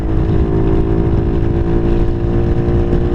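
Venom SS3 or KP mini 150 motorcycle cruising near 60 mph on a highway in fourth gear with a 17-tooth front sprocket, a steady loud engine drone with rumbling wind noise throughout.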